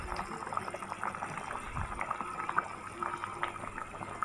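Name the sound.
water boiling in a pot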